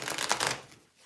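A deck of tarot cards shuffled by hand, a quick papery riffle of flicking cards lasting about half a second before trailing off into near silence.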